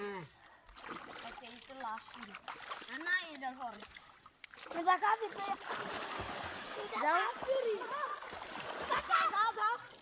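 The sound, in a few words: child splashing water while learning to swim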